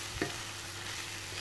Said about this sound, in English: And then stir it around.